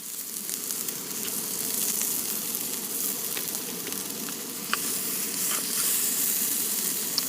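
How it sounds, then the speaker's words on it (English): Lamb chops frying in a pan at a car campsite in the Cairngorms National Park, giving a loud, steady sizzle with scattered crackles and pops close to the microphone, without any talking. "Give the sizzle a rating out of 10."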